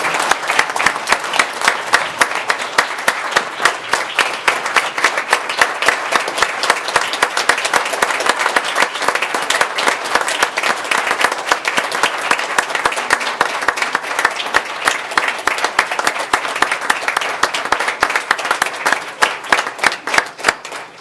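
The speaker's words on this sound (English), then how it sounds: "please, a round of applause for Lillian Valente" Sustained applause from a room at a board meeting honoring Lillian Valente, dense steady clapping from many hands lasting around twenty seconds, loud and close.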